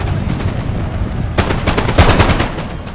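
Loud crackling musket volleys in a Napoleon Total War battle, starting as a low rumble and then breaking into a rapid ragged string of overlapping shots for the second half, no talk.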